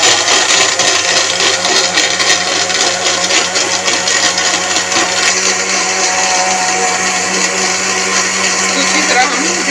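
An electric blender grinds falsa fruit for juice with a loud, steady whirring roar that holds constant throughout, with no pauses.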